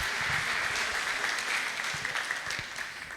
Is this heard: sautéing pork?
no